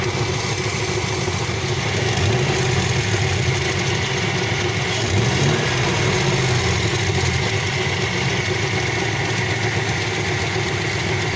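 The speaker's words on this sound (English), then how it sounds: "You can kind of hear it when I rev it, besides the manifold leak." Pontiac Trans Am engine with a manifold leak, idling loudly and close with a rough, pulsing exhaust note, swelling in a couple of slow revs before settling back to a steady idle, with no talking.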